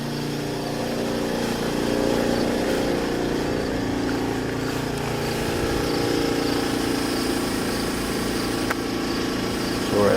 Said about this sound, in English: We're at 77 decibels near the exhaust, at roughly right next to the generator.